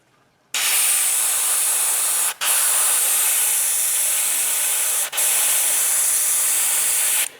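An airbrush blasting water through it to flush out paint, a loud, continuous hiss cut by two brief pauses, close up with no talk.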